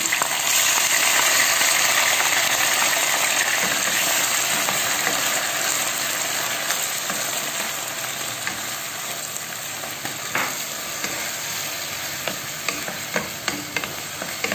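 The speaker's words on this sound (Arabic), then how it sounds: "ندير الدجاج آه، يتقلى هكذا دوك كيتقلى لي شويه الدجاج نزيد عليه البصل" Chicken pieces and onion frying together in a pan for a green bean, olive and chicken tagine, giving a dense, steady sizzle close up with occasional faint utensil clinks.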